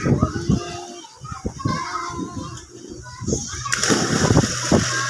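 Water splashing and sloshing as children play in a pool, with kids' voices and shouts mixed in throughout, growing louder near the end.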